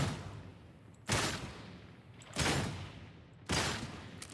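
Pistol shots from Warhammer 40K: Darktide, three heavy booming reports spaced about 1.2 seconds apart, each with a long decaying tail, loud and close with no talking.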